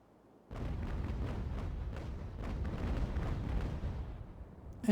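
Naval cannon fire from an age-of-sail battle in Ultimate Admiral: Age of Sail, a continuous loud rumble of overlapping booms from several guns, with heavy low-end thuds in a steady, dense barrage.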